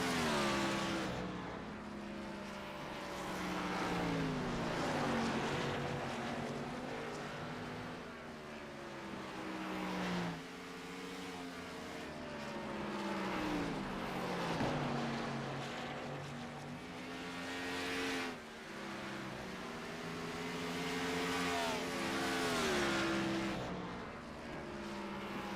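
Stock race car engines roar continuously around Richmond in a sim racing game, several cars droning and shifting pitch together as they rise and fall through laps, steady and fairly loud with no talk.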